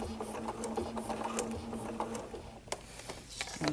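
A sewing machine does ruler-foot quilting on a table runner, giving a quick, steady run of needle stitching with light mechanical ticks. Near and moderately loud, it stops briefly before a few last clicks.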